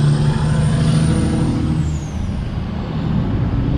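A truck rolls past near a fuel stop with a loud, steady engine rumble and a long hiss of air brakes, the sound staying close and constant before easing slightly.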